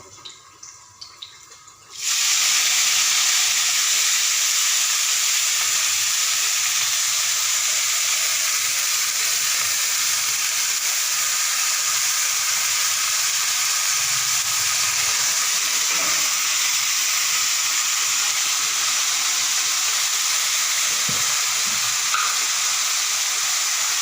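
Raw greens (shak) and garlic dropped straight into hot oil set off a loud, steady sizzle that starts abruptly after a quiet moment and keeps hissing evenly to the end.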